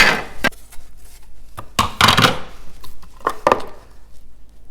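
Onions being sliced with a Fullstar vegetable chopper, a series of sharp, close plastic chops and clacks at irregular intervals with quieter rustling between.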